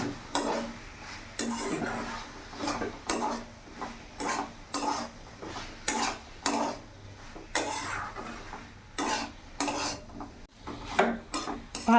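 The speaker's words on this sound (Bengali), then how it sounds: "এখানে সেদ্ধ করে রাখা সয়াবিনটা আমি পুরোটা দিয়ে দেবো দিয়ে ভালো করে কষিয়ে নেবো" Boiled soybeans are stirred into fried spice masala in a pan, a near, irregular run of metal spoon scrapes and clinks against the pan over a soft sizzle, with no talking.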